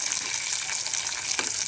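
Tomatoes sautéing in a pan for a mackerel curry give off a steady, close sizzle with a watery bubbling texture, continuous and fairly loud, with no voices.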